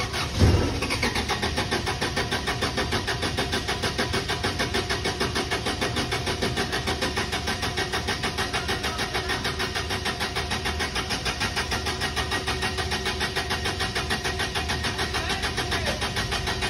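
A vehicle engine turns over and catches, then holds a steady loud mid-pitched running drone with light revving throughout, close by and alone without talk, while containers are being offloaded in Saudi Arabia.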